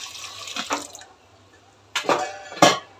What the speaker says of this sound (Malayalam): സ്വല്പം വെള്ളം കൂടി ഒഴിച്ചിട്ട്